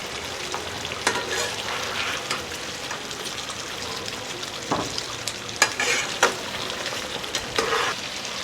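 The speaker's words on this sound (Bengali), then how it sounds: "মাংসটা বেশ কিছুক্ষণ আমি নেড়ে নেব।" Mutton rogan josh is stirred with hot ghee in a pan, giving a loud, close, continuous sizzle broken by the scrape and clack of a spoon against the pan, with no talking.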